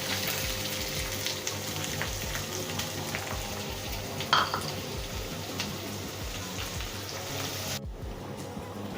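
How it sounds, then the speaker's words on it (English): Finely chopped onions, added after green chilies, fry in a pan with a steady, rain-like sizzle that holds throughout. A single brief clink comes near the middle, and the sound cuts off abruptly at the end. "now we'll be adding the finely chopped onions"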